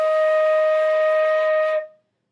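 A flute plays a single sustained E for nearly two seconds, steady and clear at close range, then stops cleanly.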